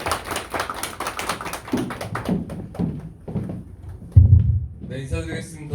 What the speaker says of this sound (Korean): 네, 박수로 맞아주시죠.